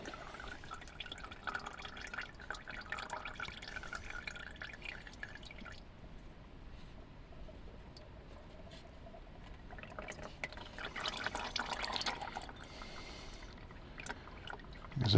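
Engine oil drains from a car into a pan during an oil change, a faint, steady trickle and dripping with soft splashing, quiet throughout and slightly louder toward the end.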